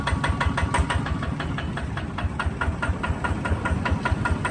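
Kubota ZT140 diesel engine on a Siam Kubota NC Plus X two-wheel tractor with cast tyres and plough set, running steadily at idle with a regular knocking thump, loud and close, no talk.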